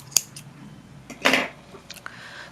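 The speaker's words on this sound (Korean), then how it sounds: "이 실을 모자 둘레의 3배, 하나, 둘, 3배 정도 남기고 잘라줍니다." Scissors snip through crochet yarn while making a mushroom monster amigurumi doll: one crisp, close cut stands out loud and alone, with a few lighter clicks of the blades around it.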